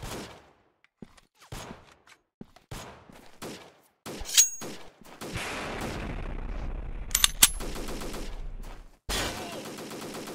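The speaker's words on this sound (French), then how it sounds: "il me tire à travers les murs là" Gunfire in the Freeman Guerrilla Warfare video game: a string of sharp separate shots, then sustained close automatic bursts with rumbling low end, a short break, and a final loud volley.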